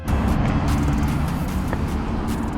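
A 1983 Yamaha XJ750 motorcycle riding away, its engine a steady low rumble that stays fairly even and gradually recedes, with no talking.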